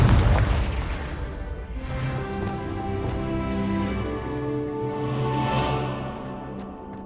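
Confringo spell in Hogwarts Legacy erupting into a deep booming explosion that rolls and rumbles for several seconds before slowly fading, with no voices.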